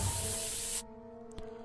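A short burst of pepper spray in the video game South Park: The Stick of Truth, a loud broadband hiss lasting under a second that cuts off abruptly over a faint musical background.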